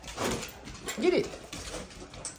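A Rottweiler whimpers in short, close whines while a person talks over it in the same moment.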